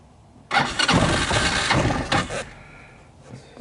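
A UTV/ATV engine, one that misfires and dies when warm, cranks and catches on the starter, then runs loudly at a rough, uneven idle before settling lower. The sound is close and there is no talk.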